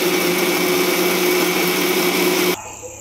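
Mixer grinder blending roasted onion and tomato into a paste, a loud steady motor whine with grinding churn running continuously up close, then abruptly cutting off near the end to a quiet hum.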